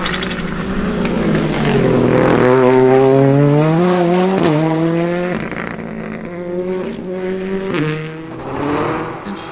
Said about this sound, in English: the McAvoy Motorsport Fiesta R5 of Gary McAvoy.